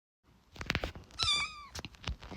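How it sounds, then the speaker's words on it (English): A cat gives a single clear meow indoors amid light household knocks and movement, fairly faint and close. "Why that naughty cat over there?"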